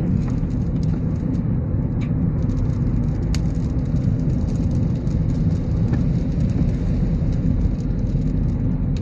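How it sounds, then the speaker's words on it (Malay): Steady, heavy rainfall drumming continuously on surfaces, dense and close, with occasional faint drips and ticks on top. "Hujan."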